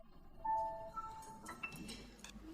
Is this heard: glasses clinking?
yes